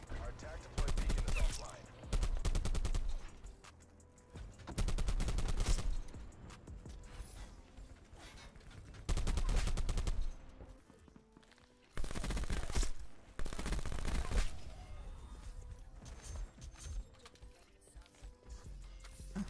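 Gunfire in the video game Call of Duty Black Ops 4, fired at a downed body: several loud bursts of automatic fire separated by quieter gaps, with game effects underneath.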